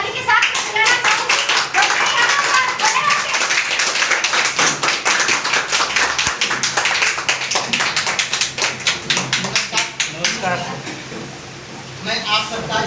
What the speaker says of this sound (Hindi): उनको आपकी जोरदार ताली के साथ बुलाना चाहूंगी।